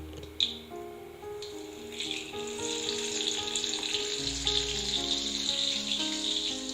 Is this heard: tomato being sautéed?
yes